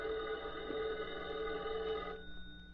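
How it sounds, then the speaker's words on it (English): Telephone bell ringing in an old radio drama, a faint steady ring lasting about two seconds before stopping, with no talk. "Meanwhile, Bargo received a phone call."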